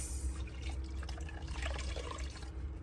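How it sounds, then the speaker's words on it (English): Water splashing and trickling as hands wet a face during a morning washing routine inside a van, a steady close splashing with small drips throughout. "So I'm gonna wash my face"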